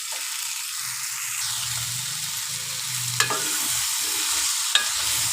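Drumstick pieces fry with onions in a pan for an egg and dried fish curry. The sizzle is a steady, close hiss, with occasional stirring clinks and no talking.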